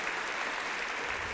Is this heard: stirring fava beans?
no